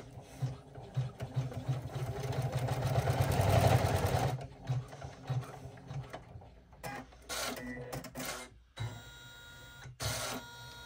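An embroidery machine stitches a water bottle sling bag, a steady rapid mechanical chatter near and fairly loud that swells briefly, then breaks into shorter intermittent bursts with pauses.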